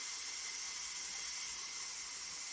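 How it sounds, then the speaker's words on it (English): Steam escaping from a T-fal pressure canner used for canning carrots, a steady, even hiss that stays constant and fairly quiet without a break. "there's still a little bit of steam coming out"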